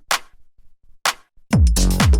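Short, snappy clap sample from a synth-heavy tech house beat, struck twice with a clear gap between hits, followed by a louder burst of full tonal mix.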